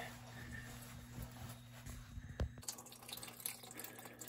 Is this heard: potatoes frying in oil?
no